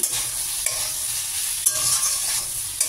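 Vegetables fried in a pan with a constant, bright sizzle while a spatula stirs them, a few distinct scraping knocks punctuating the hiss; close-up, no talking.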